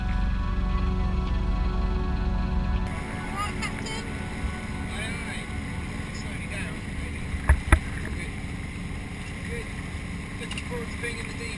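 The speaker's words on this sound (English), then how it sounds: "It's one of the Harwich pilot boats coming in." A Harwich pilot boat runs past at sea, its steady engine and wash rumbling under wind noise, with a few short knocks near the end.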